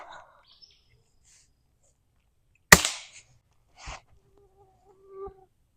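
A bolt-action Savage Mark 64 FESR rimfire rifle fitted with a Silencer Co. Sparrow suppressor fires one sharp, loud suppressed shot, followed by two fainter clicks or clacks of the action, outdoors with faint birdsong in the background.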